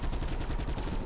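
Rapid automatic fire from the Zweihander gun in Black Ops 4 Zombies, a dense, fast burst of repeated shots at an even rhythm, loud and close throughout.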